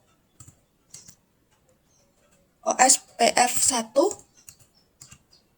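Brief bursts of computer keyboard typing as router configuration commands are entered, a quick flurry of dense clicking between short stretches of quiet, with occasional faint taps before and after.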